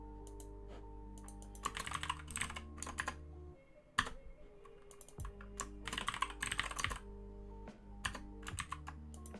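Fast bursts of typing clatter on a computer keyboard, close and crisp with short pauses between runs, over a steady low electronic hum.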